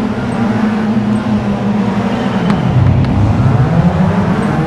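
Race cars roar together at the start of a Gran Turismo 5 race at Monaco, a loud, dense, continuous engine drone with a rising pitch sweep and no talk.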